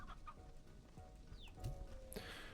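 A rooster clucks in the farm video game Slime Rancher 2. There are a few soft clucks and short calls over a low game background hum, with no voices.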